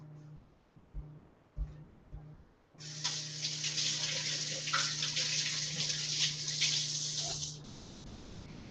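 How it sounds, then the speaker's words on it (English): Tomatoes washed under a running kitchen tap: after a few light knocks and clatters, water gushes steadily for about five seconds against a low hum, then cuts off. "I just make sure I wash them, which I'm going to do straight away"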